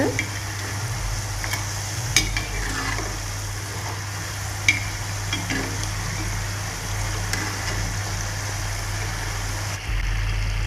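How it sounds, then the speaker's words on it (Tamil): Ring murukku made from raw rice flour dough deep frying in hot oil, giving a steady, close bubbling sizzle throughout with occasional clinks of a utensil. "இது மாதிரி வெந்து சலசலப்பு அடங்கினோன்னே இது மாதிரி திருப்பி விட்டுக்கோங்க."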